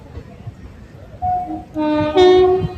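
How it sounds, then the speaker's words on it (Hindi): A train pulls into Alleppey station in Kerala, India. Loud, sustained horn blasts sound close by over a low rumble of wheels, rising in strength in the final seconds. "थोड़ी देर में ट्रेन रुक जाएगी, स्टेशन ऑलमोस्ट आ ही चुका है।"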